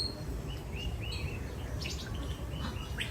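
Several small birds chirp and tweet at intervals over a steady low rumble of outdoor background noise.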